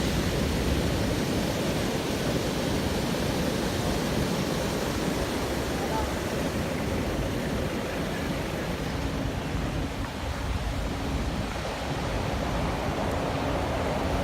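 Heavy ocean swell pounds the Saint-Leu seafront, a loud, unbroken roar of surf and crashing waves filling the scene, with a voice faintly beneath it.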